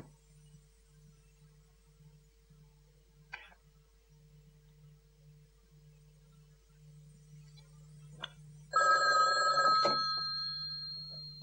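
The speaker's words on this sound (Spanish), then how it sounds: "Llama por teléfono y no cuelgues hasta haber hablado con Dean." An old telephone in a sheriff's office rings with a loud metallic bell burst near the end, after a long stretch of low steady hum and a couple of faint clicks.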